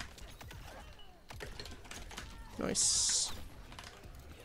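Computer keyboard keys clatter in quick taps while someone plays Mortal Kombat, the clicks running under speech and game sounds.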